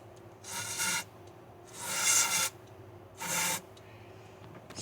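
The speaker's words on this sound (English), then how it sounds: "Scrub it clean." A clogged engine part from a Honda Pilot 3.5 being scrubbed clean by hand, giving three rasping scrub strokes of about a second each, close and fairly quiet, with short pauses between them.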